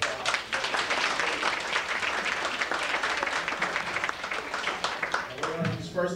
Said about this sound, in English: give y'all a round of applause